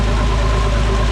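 An Allis Chalmers D-19 tractor fitted with a 426 pulling engine idles at close range, a loud, steady low rumble with an even, continuous throb and no pauses.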